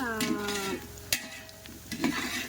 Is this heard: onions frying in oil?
yes